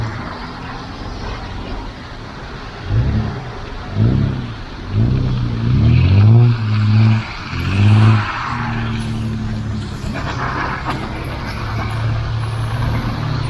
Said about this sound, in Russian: Машин очень-очень много.